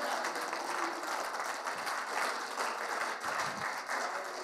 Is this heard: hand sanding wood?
no